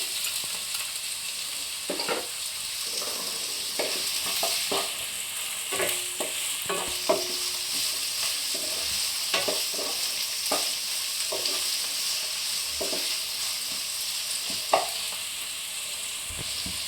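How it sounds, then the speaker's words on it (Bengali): Chopped onion and green chilli frying in a pan for a sattu paratha filling, a continuous close sizzle broken by repeated scraping strokes of a spatula, with no talk. "কাঁচা লঙ্কাটা দিয়ে দিলাম পেঁয়াজ কুচিটা দিয়ে দিচ্ছি"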